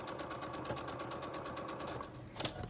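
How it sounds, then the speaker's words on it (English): A sewing machine runs steadily while stitching shirring, producing a close, faint, rapid needle clatter in an even mechanical rhythm with a light hum underneath and no voices. "And then you'll start sewing."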